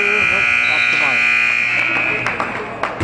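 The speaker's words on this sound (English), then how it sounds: "Here's the buzzer." A loud, sustained electronic buzzer ends the first half of a high school boys' basketball game, blaring for a few seconds over crowd noise and a commentator talking in an arena.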